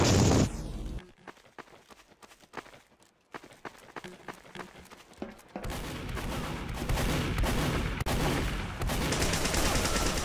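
Gunfire in Team Fortress 2, a 2008 multiplayer shooter: sharp, rapid shots and bursts build into dense, loud continuous combat noise, with running footsteps and game effects mixed in.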